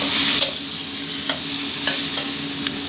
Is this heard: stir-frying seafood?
yes